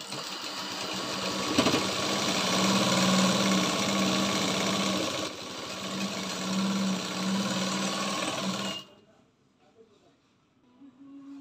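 Sewing machine stitching a blouse runs in a steady, loud mechanical whir for about nine seconds with a brief pause midway, then stops, leaving near silence with faint sounds at the end.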